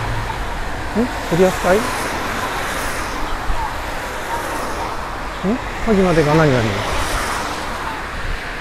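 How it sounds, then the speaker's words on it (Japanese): Steady roar of passing cars on Route 191 near Masuda, heard from a bicycle on the roadside, a continuous broadband hiss with swells as vehicles go by, with people talking over it. "車のあのジャーって音がうるさくて"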